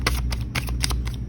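Tarot cards being shuffled in a continuous run of crisp riffling flutters, loud and close, repeating rhythmically with no voice over them.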